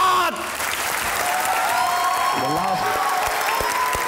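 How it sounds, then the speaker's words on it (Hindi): Studio audience applause on a comedy talk show greeting cricket legend Javed Miandad, steady dense clapping throughout with a voice talking over it. "तालियां बजती रहनी चाहिए।"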